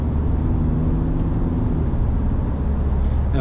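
A Peugeot 3008 GT Line with an eight-speed gearbox, heard from inside while driving, giving a steady loud low engine and road rumble with no clear break for a gear change.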